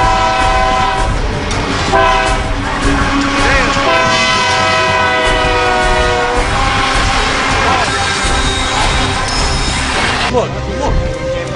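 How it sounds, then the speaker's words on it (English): A train passing over railroad tracks, loud and close, with a long blaring horn and rumbling wheel noise that last through the whole stretch, with people talking over it. "You would think that a train going over metal would heat it up, right?"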